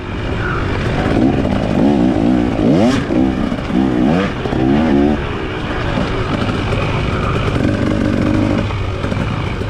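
A dirt bike races along a woodland trail in a cross-country event, its engine blaring close by and revving up and down in repeated bursts over a steady, loud drone throughout.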